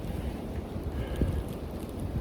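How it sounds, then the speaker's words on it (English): Steady wind roars across a mountainside during an evening rifle hunt, a continuous low rumble of gusts buffeting the microphone with no voices. "We still got wind blowing."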